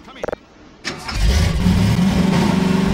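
A few sharp clicks come first, then a car engine in Half-Life 2 cranks and catches, settling into a loud, rumbling idle.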